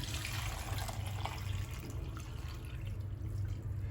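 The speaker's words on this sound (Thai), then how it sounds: "แล้วเราก็ใส่น้ำลงไปเลยค่ะ" Water pours from a tap into a pot holding rice for khao tom, a steady close splashing rush running throughout without pause.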